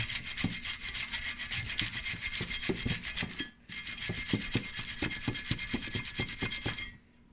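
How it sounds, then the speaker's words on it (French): Front brake caliper bracket of a Lexus is sanded by hand, making loud, rhythmic rasping strokes in a steady back-and-forth pattern, with a brief pause in the middle and an abrupt stop at the end. "Là, on va le sabler."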